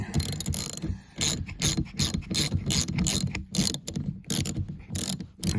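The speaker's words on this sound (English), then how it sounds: "that is a 13 millimeter ratchet that I got. Let's see if we can get this to break free or not" A 13 mm hand ratchet works a bolt loose on a 2001 Chevrolet Suburban, giving a quiet close series of irregular clicking bursts with brief pauses between strokes.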